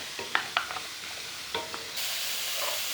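Vegetables and potatoes for an Assamese bhaji fry with salt and turmeric in a pan, giving a steady sizzle broken by a few sharp scrapes and knocks as a spoon stirs them.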